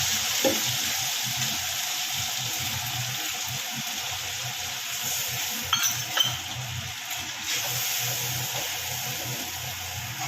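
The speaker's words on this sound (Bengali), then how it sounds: "আমি সর্ষেটা একটু তেলের উপরে দিই" Mustard paste frying in hot oil before fish is added, a dense continuous sizzle close by with a few louder crackles and spoon scrapes partway through.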